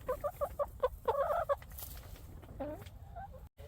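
Several chickens cluck and call in a coop on deep winter bedding, with a run of short rhythmic clucks followed by a denser burst of close, loud calls and then a softer drawn-out vocalization.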